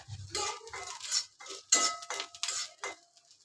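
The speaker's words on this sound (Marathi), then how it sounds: "मिरी आणि लवंग टाकते, ते भाजून घेते." Black pepper and cloves dry-roast in a pan while a metal spoon stirs them, giving close, light scraping and clinking strokes in an uneven rhythm with no voices.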